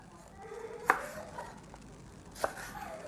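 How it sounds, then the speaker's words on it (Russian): A knife chops bell peppers on a board for a shrimp and vegetable dinner, two sharp, distinct cuts about a second and a half apart over quiet room tone. "перцы я режу спинкой вниз"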